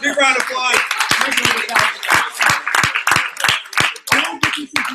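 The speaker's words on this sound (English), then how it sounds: "Let's give him a big round of applause" An audience at a sales event breaks into a quick burst of hand clapping, loud and close, while a voice keeps talking over the applause.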